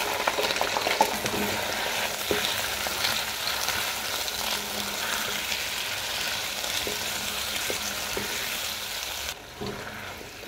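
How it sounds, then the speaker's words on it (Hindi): Potatoes fry in oil with cumin, giving a continuous loud sizzle close by, with occasional light scrapes and knocks of stirring and no speech. "ये ज़ीरा यहाँ पे हो गया इसके अंदर मैं डालती हूँ आलू"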